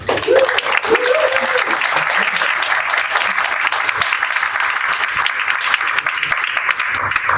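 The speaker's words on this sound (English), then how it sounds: "So please, your round of applause." Sustained audience applause at a film premiere screening, dense and loud, filling the whole stretch with steady clapping and a few voices faintly under it.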